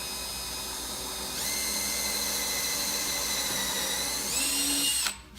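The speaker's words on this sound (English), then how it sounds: "we're gonna put a hole through it" A power drill bores a hole through a wooden speed bag platform, its high whine starting softly, rising sharply after a second, holding steady, then surging briefly before cutting off near the end.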